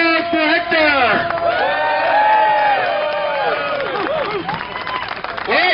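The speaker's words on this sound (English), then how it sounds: "Please give a round of applause for Hector." Crowd at an outdoor Portland rally against city budget cuts claps and cheers loudly and steadily, with whoops rising over the applause and voices shouting throughout.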